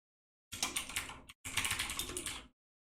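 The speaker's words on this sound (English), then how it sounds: "Mute this so you don't have to hear me furiously typing." Furious typing on a computer keyboard: two quick, dense bursts of clattering keystrokes split by a brief pause, close and fairly loud with no talk.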